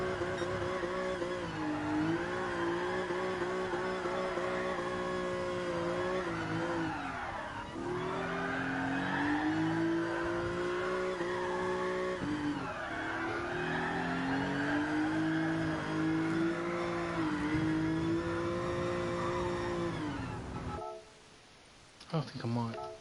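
Car in GT Sport drifting around Suzuka: a loud, sustained engine note rising and falling through gear changes, with tire squeal layered over it, then a brief dip near the end before the engine picks up again.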